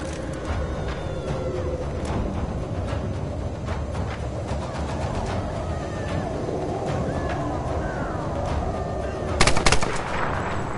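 Rapid gunfire rattles through a Tomb Raider video game boss fight, dense bursts of shots over a rumbling background, with a louder cluster of blasts near the end.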